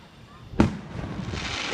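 Fourth of July fireworks go off at a distance, a single sharp crack followed by a lingering rumbling wash, while people nearby talk.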